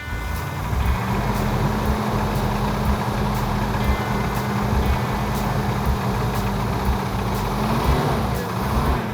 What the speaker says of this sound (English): This has a metallic clanking sound to it.